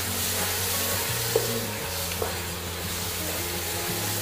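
Apple halwa with ghee-roasted dry fruits stirred in a pan, a steady close sizzle with soft scraping from the spoon and a couple of faint taps, no talking.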